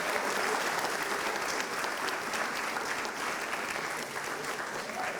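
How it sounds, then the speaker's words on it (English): An audience at a 2018 international cultural program opening ceremony applauds steadily for the full stretch, a dense, even wash of clapping from many hands with no break. "Please give a round of applause for Maureen"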